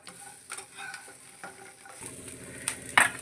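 Fried fish pieces are stirred in a pan, with soft scraping strokes and light sizzling under them, ending in a sharper clink of the spoon against the pan; close and fairly quiet, with no talk.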